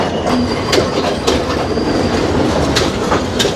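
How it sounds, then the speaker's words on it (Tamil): A train rolls past on the line between Jaffna and Idalgashinna, loud and close, with steady clickety-clack wheel rhythm and occasional squeals over a continuous rumble throughout. "போகிற வழியில் இன்னும் ஒரு ட்ரெயின் வருது"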